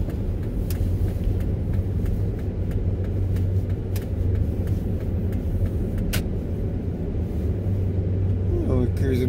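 A car cruises up San Francisco Street in Santa Fe, New Mexico, just after sunset, with a steady low engine and road rumble throughout and people talking over it.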